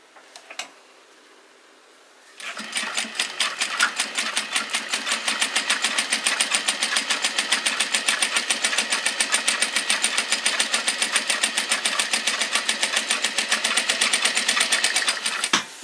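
A sewing machine stitches a dog collar. After a quiet start with a couple of clicks it runs in a fast, steady, close rhythmic whir of needle strokes that carries on to the end.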